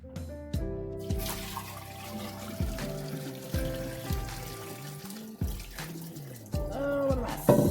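Meat broth pours and splashes into half-gallon jars in a series of separate gurgling bursts, each starting with a splash and trailing off as the liquid settles, close and moderately loud with no talking.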